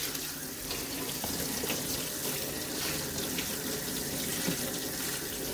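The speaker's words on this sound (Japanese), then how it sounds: "ザルに入れてシャワーでシャーってやって終わりにしてます" Water sprays steadily from a faucet sprayer over cabbage in a colander in a sink, a continuous hissing splash at moderate distance with no voices.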